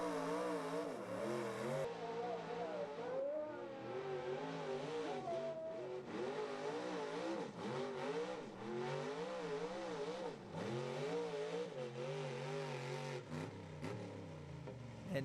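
A 1994 Ford pulling truck at a truck and tractor pull revs hard, its engine climbing and dropping in repeated surges with rising and falling pitch, loud and sustained throughout with no talking.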